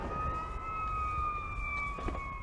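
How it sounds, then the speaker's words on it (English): A siren wails steadily in the distance on a Chicago street, a sustained tone drifting slightly in pitch over low traffic rumble. "You always hear sirens around here?"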